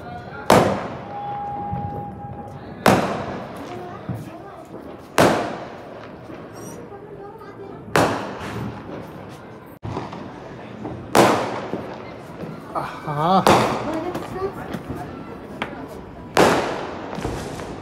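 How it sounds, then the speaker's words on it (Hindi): Firecrackers going off outside during Diwali, a series of sharp loud bangs every few seconds, each with a ringing decay. A voice can be heard between the blasts. "बाहर पटाखे चल रहे हैं ना"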